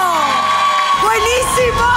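Studio audience on a televised talent and dance show applauding and cheering loudly, with whoops and shouts over a dense, continuous wash of clapping that swells partway through.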